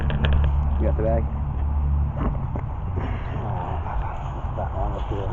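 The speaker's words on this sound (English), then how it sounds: "Get away from this traffic where I can hear." Steady low road rumble of traffic fills the background in Athens at night, with vehicles passing and people talking over it throughout.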